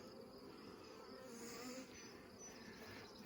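Honeybees buzz around an open hive during an inspection, a soft continuous drone with a passing bee humming close by, faint and steady with no talking.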